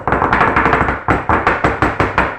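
A baking dish of ravioli is knocked down repeatedly on a kitchen counter, giving about ten sharp, loud knocks in a fast, even rhythm with a short pause partway through.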